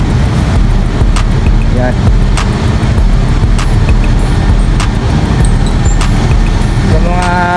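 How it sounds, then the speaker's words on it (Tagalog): Buses and cars rush past on a roadside highway, loud continuous traffic roar with passing vehicle swells, while a person speaks briefly nearby. "Kaya naririnig nyo yung mga bus, mga sasakyan."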